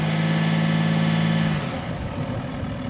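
Vehicle wheel spinning in beach sand at a Northern Territory camp, a loud engine hum holding a steady pitch before dropping to a rougher, lower drone.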